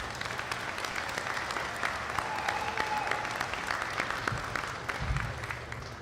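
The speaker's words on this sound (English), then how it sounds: "So please let's give a good round of applause for all of these contractors." An outdoor crowd at a ribbon cutting for a new North South Freeway section applauds the contractors, steady mid-distance clapping sustained for several seconds with a low thump near the end.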